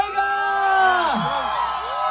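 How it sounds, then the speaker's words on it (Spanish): A crowd at a Mexican regional music event near Mazatlán lets out a loud, sustained collective shout and whoop, with rising and falling yelling voices that stay strong through the whole stretch. "La gente de Fray Flanes lo recibe con un pinche grito."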